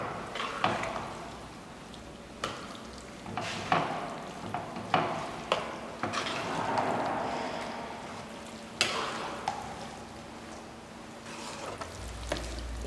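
Spices are stirred into brinjal puree for baingan bharta in a pan, with a soft sizzle running throughout and a series of sharp spoon scrapes and taps at irregular intervals, and almost no talking.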